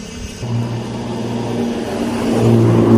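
A car engine hums and rises in pitch as it passes close by on a street at Sun Moon Lake, Taiwan, growing louder toward the end.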